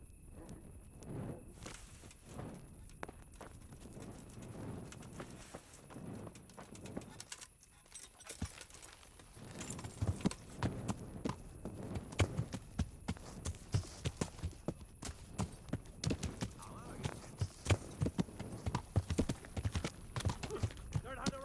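A horse's hooves clip-clop steadily in the Kingdom Come: Deliverance video game, a rhythmic walking gait growing louder and brisker midway, with birds and pigeons cooing around it and voices speaking over parts of it.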